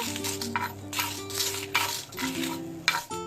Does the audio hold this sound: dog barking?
no